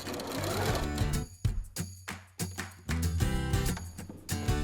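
A sewing machine stitches a quarter-inch seam through fabric for a classroom book bag, running in steady close bursts with brief pauses between runs and no talking.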